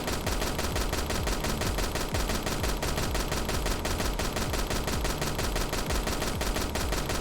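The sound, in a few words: gunfire from shooting in a video game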